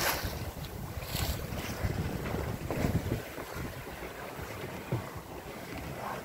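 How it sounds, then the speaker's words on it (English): A Cal 29 sailboat sails through Dixon Entrance in wind, a steady rushing roar of wind over the microphone with splashing water and hull noise, no speech. "enjoying an incredible sailing experience"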